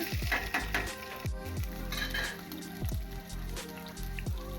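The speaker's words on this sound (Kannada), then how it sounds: "ಅದನ್ನು ಫ್ರೈ ಮಾಡೋಣ ಚೆನ್ನಾಗಿ ಫ್ರೈ ಆಗಲಿ ಅದು" Green chillies, chana dal, urad dal, mustard seeds and curry leaves fry in oil for a raw mango chitranna tempering, a lively close sizzle with repeated stirring scrapes every second or so; no talking.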